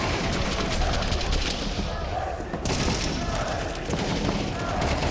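Rapid gunfire from a Counter-Strike esports grand final, a dense continuous volley of shots and bursts filling the clip, loud and close, with commentator voices over it.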